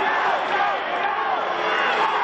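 A large wrestling crowd at the Louisville Gardens in Kentucky cheers and roars steadily, a dense, loud wall of voices throughout.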